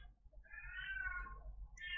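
A female cat in heat meows in an agitated way, a single faint drawn-out yowl heard at a distance over a low background rumble, with another short cry starting at the end.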